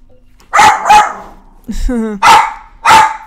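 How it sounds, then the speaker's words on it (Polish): A pet dog named Ela barks in loud, separate bursts, two close together, then a whine-like yelp, then two more sharp barks, with a person's voice scolding in between. "Uspokój się, Ela! Nie wolno szczekać."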